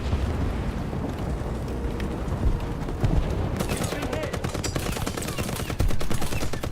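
Machine gun fire in the War Thunder video game, aimed at a heavy tank, rattles as a dense, continuous burst that grows harsher partway through, with talk mixed in throughout.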